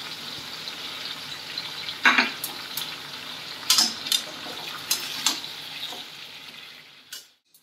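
Mixed vegetables fry in a pan as slit chillies go in, a steady hissing sizzle broken by several sharp spoon scrapes and clinks of stirring before the sound cuts off.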